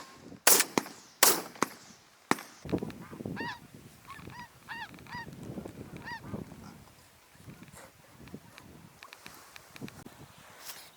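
Geese honk repeatedly during a goose hunt at Fort Severn. Sharp gunshots come first, then a flurry of clear, nearby honking calls over rustling and outdoor noise.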